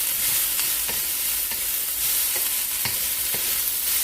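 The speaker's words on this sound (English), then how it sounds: "keep on sauteing it. The butter will melt." Butter sautéing in a pan while rice is being fried, giving a steady sizzle with repeated scraping and stirring strokes of a utensil, close and continuous, with no voices.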